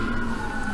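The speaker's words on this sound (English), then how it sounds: "sorry for the siren, we'll let it pass." An emergency vehicle siren wails steadily at close range with sustained tones under traffic rumble as it passes.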